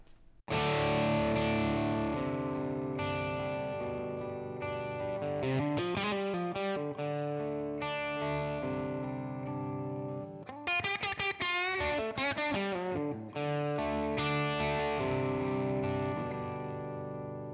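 Electric guitar played through a Tonex ONE boutique amp model with added reverb, loud and continuous with overdriven chords and single-note lines ringing out and a short break midway.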